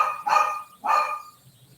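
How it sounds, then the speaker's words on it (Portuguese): A dog barks twice in quick succession, loud and close, each bark a sharp burst followed by a short trailing tail, then quiet. "como vocês podem perceber, meu cachorro começou a latir"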